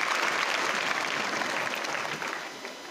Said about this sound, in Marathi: याच्यासाठी टाळ्या वाजवा